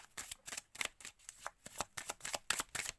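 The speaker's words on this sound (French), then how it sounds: "j'ai mélangé un petit peu les cartes avant" Tarot cards being shuffled by hand: a quick run of soft, papery riffles and flicks in a steady rhythm, close and quiet, with no talking.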